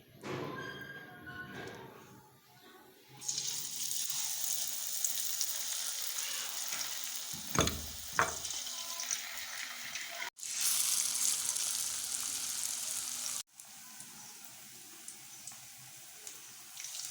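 Spinach leaves dipped in gram-flour batter sizzle steadily as pakoras fry in oil over a medium flame, a continuous crackling hiss broken by a couple of brief thuds and clatters from handling in the pan.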